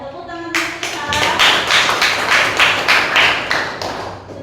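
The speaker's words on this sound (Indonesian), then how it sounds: "Tepuk tangan untuk Ilham." A classroom of students claps for a classmate, a burst of brisk, loud hand clapping that starts abruptly and keeps a fairly even rhythm to the end.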